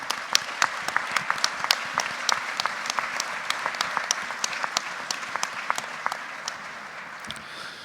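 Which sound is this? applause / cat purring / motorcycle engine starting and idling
applause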